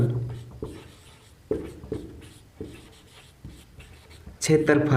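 Marker or pen strokes writing a formula for the area of a circular sector on a board, a series of short scratchy bursts with pauses between them, close and moderately loud.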